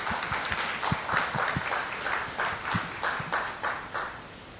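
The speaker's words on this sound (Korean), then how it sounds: "여러분 큰 박수 부탁드립니다" Audience clapping in a hall as a teacher comes up on stage, a steady stream of distinct hand claps from a moderate crowd, fairly close and crisp, with no talk over it.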